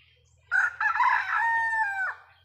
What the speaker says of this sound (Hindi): लीची पेड़ में मेरा मुर्गा बैठा है, वो पुकार रहा है,